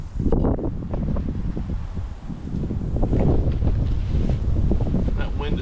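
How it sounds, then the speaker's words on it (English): Strong gusts of wind buffet the microphone beside a side canal of the Withlacoochee River, a loud, continuous rumbling roar that covers the whole stretch with a few rustles mixed in. "That wind is still booking"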